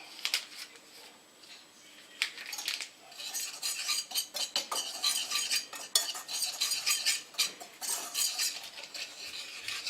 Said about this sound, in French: on doit mélanger la farine avec la levure